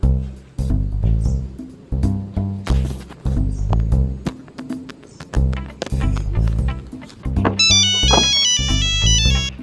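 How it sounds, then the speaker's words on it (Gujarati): A melodic phone ringtone for an incoming call plays loudly in steady repeating phrases, with a bright high chiming line joining near the end; no talk over it. "ફોન આવ્યો છે."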